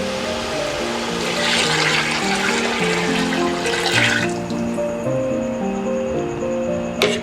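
Water from a seven-cup measure pours into a pot of beef yakhni pulao with browned meat and oil, a steady loud splashing gush that runs for several seconds and then tapers off.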